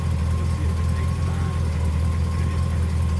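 A truck engine idles steadily throughout, a continuous low rumble with a faint mid-range tone riding on top, close and moderately loud, no clear start-up burst.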